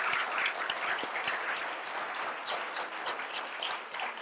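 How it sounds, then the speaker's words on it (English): An audience gives a discussion panel a round of applause, a continuous crackle of many hands clapping at moderate distance. It stays fairly even and eases slightly near the end. "Can we give a round of applause to our panel?"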